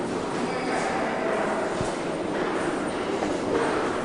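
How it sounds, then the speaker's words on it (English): Metro train at the Cluny stop in Paris, a steady loud roar of rolling wheels and rumbling cars filling the station throughout, with voices faintly underneath. "We are here in the Cluny metro stop"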